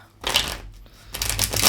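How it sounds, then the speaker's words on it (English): Tarot cards being shuffled by hand in two quick bursts of riffling and sliding, close and crisp, with a short pause between them and no talking. "We get one more shuffle."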